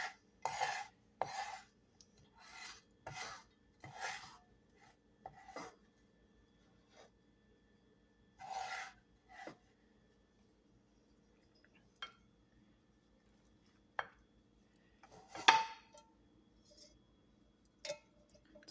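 Spatula scraped along a cooking pan to lift leftover food, done one-handed: a handful of short, separate scratching strokes with quiet pauses between them, close and fairly soft.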